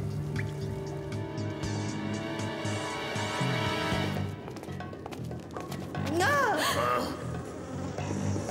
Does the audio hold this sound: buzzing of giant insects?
yes